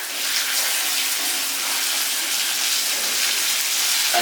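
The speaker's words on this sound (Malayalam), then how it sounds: "കഴുകിയ കറിവേപ്പിലാകുമ്പോഴത്തേക്കുണ്ടല്ലോ നമ്മൾ ഇതിനകത്ത് ഇടുമ്പോഴത്തേക്ക് ചെറിയ ശബ്ദകോലാഹലങ്ങളൊക്കെ കേൾക്കും" Washed curry leaves hit hot oil for a lady's finger and gooseberry dish, producing a loud, close, continuous crackling sizzle that holds steady from start to finish with no talking.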